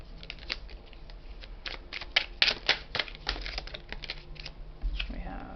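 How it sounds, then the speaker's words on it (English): Dense, irregular riffling and clicking of a tarot deck being shuffled up close, with uneven bursts and a soft thump near the end. "this deck is a little bit hard to shuffle for me"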